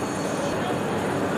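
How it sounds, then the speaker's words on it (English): Busy station ambience at Gare du Nord in Paris: a continuous rumbling, hissing wash of rail and crowd noise with faint wheel squeal, steady and fairly loud throughout. "Now part of the hustle and bustle of Gare du Nord, waiting for the train to leave."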